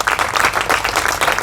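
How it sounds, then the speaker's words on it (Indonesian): A church congregation applauds during a Pentecostal-style sermon, a short burst of fast, dense, lively clapping from many hands, close and fairly loud, with no talking. "Berikan tepuk tangan buat Tuhan Yesus."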